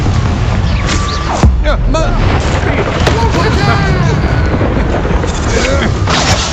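Confringo blasts in Hogwarts Legacy land as repeated loud booms over a dense battle din, and a person talks and exclaims throughout, partly over the explosions.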